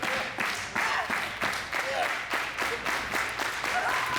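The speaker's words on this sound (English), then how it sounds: "Crowd really getting behind Faye here." A wrestling crowd claps in a rhythmic, pulsing beat, steady and fairly loud, rallying behind a woman wrestler during a match, with a commentator talking over it.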